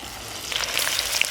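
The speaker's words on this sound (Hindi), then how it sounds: "अब हम चिकन को फ्राई कर लेते हैं।" Chicken pieces frying in oil in a kadai for chicken biryani, a close hissing sizzle that grows denser with scattered sharp pops and crackles toward the end, no talking.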